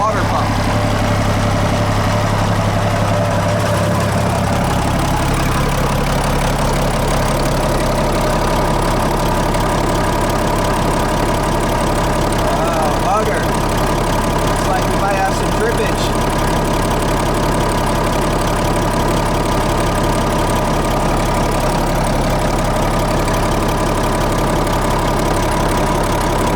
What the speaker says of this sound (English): Now we're going to check the engine while it's running to make sure there's no leaks on the water pump.